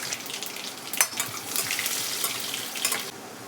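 Chopped garlic cloves sizzle and crackle steadily in hot oil for a tempering, a bright hissing fry with small pops, fairly close, then easing off near the end.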